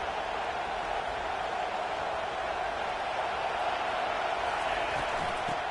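Steady stadium crowd roar from a college football video game, a Florida dynasty matchup, holding a constant broad wash of cheering noise throughout at moderate level with no clear peaks.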